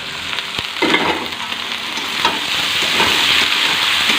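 Cauliflower and tomato frying with salt as they are stirred, a loud continuous sizzle with close scraping and clatter of the spoon, building slightly toward the end, no voices present.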